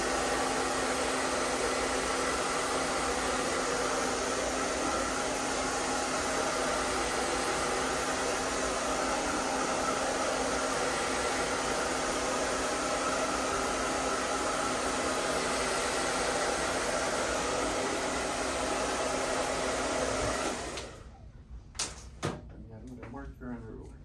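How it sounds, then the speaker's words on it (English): A blow dryer runs continuously at close range during a hair transplant procedure, a steady loud whooshing hiss that cuts off near the end with a few clicks and knocks. "And we have a blow dryer."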